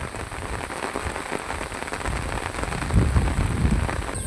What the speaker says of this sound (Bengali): অনেক বৃষ্টি দিচ্ছে, অনেক।